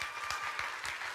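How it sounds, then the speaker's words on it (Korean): A short burst of audience applause fills the whole moment, dense and fairly close, with a faint voice beneath it. "박수 한번 주세요"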